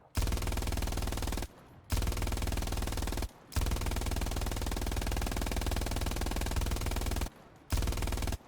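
A machine gun fired from the hip in the World War II shooter Hell Let Loose pours out long, dense sustained bursts, loud and close, broken by three short pauses between strings of automatic fire.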